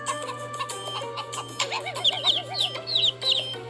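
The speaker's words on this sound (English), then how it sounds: "Chickens!" Chickens clucking in a short burst of repeated clucks and squawks, fairly close, with some higher chirping calls mixed in over a steady low hum.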